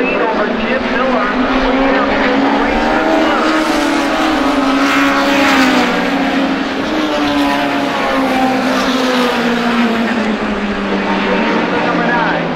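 Race cars of a NEMA feature roaring around the oval at Lee USA, a continuous loud engine drone with shifting pitch as cars pass, with a voice talking over it.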